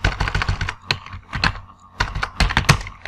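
Rapid bursts of keystrokes on a computer keyboard while PHP code is written, close and crisp, in two clusters with a short pause between, no talking.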